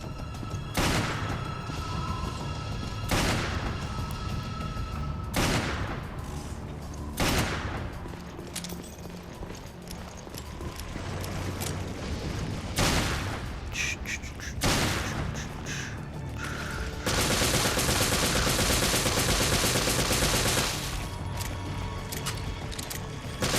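Pulse grenades burst and gunfire cracks in Resident Evil Revelations Raid Mode, sharp loud blasts spaced every few seconds, ending in a sustained roar of noise.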